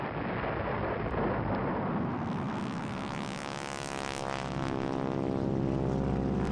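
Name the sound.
airplane flying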